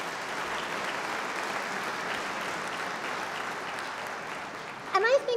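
An audience at a high school commencement ceremony applauds steadily, a dense sustained wash of clapping throughout, with a voice briefly rising near the end.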